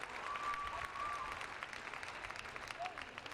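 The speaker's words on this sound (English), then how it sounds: "give yourselves a round of applause for honoring that commitment to yourself" Crowd applause at the National Senior Games: a broad, even roar of many people clapping at a distance, with a faint whistle-like tone and some murmuring voices mixed in.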